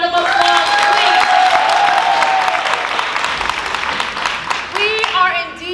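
Audience applause at a youth theater group's performance of adolescent skits, a dense sustained wash of clapping filling the room for several seconds, with voices and cheering mixed in throughout.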